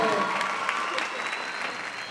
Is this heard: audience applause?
yes